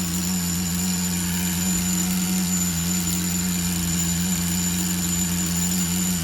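A small nitro engine in a Tamiya TGS-R Nitro XB Subaru on-road RC car idles steadily at a low, even pitch, with a constant buzzing drone and a thin high whine running throughout.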